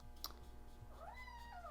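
A domestic cat in an indoor painting studio gives a short, quiet rising-and-falling meow near the end, preceded by faint clicks, with no talking.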